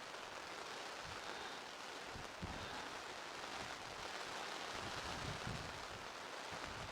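Steady rain patters on a camping awning beside a 5th Gen Toyota 4Runner during a June storm, a faint, even hiss that runs throughout with no talk.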